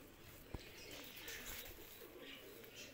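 Grey pigeons cooing softly in a pigeon keeper's loft, low faint calls under a hiss of background noise with a brief flutter or knock.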